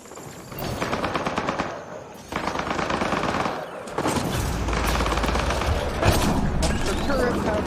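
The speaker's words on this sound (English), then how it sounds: "Turn those turrets on Merryweather's men." Video game gun turrets open up in sustained, loud machine-gun bursts, broken by short pauses and a heavy boom, while voices talk faintly beneath the gunfire.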